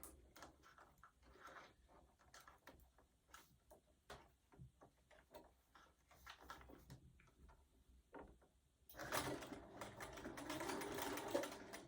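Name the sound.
sewing machine sewing a mug rug seam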